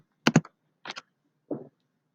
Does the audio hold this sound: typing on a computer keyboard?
yes